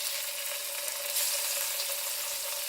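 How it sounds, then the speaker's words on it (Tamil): Tofu frying in a pan with Kashmiri chili powder and salt, giving a dense, even sizzle that stays loud and close with no voices for a few seconds. "இந்த டோஃபு நல்லா வறுக்க போகிறேன்"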